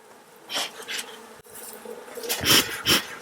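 Honey bees from a full hive box buzzing in bursts during beekeeping work, several swelling hums close to the listener, louder toward the end over a low background hiss.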